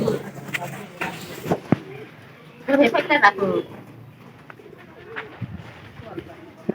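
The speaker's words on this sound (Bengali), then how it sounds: "আমার দেহে একটু কবুতর গুলা ভয় পায়" Pigeons coo in a loft, giving close, repeated throaty coos with a louder burst of calls midway and scattered softer rustles and flutters around them.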